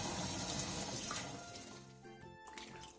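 Blanched lettuce leaves dipped into cold water, giving a continuous soft splashing and sloshing, quiet and close with no talking.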